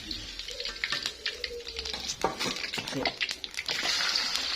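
Snails frying in a pan for rica-rica, a close sizzling hiss broken by repeated scraping and clattering as a utensil stirs them, the frying swelling louder toward the end.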